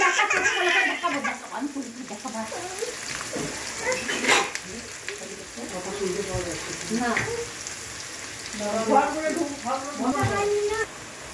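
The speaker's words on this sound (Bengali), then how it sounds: "এটা যখন অর্ধেক ভাজা হবে, লাল করবো না কিন্তু, যখন একটু ভাজা হবে" Two onions are half-fried in hot oil in a home kitchen, giving a continuous, crackling sizzle that runs beneath someone talking throughout.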